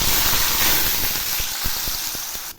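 Potato pieces hit hot oil already tempered with cumin and bay leaf, giving a loud, steady sizzling hiss that carries on without a break and then drops off sharply at the very end.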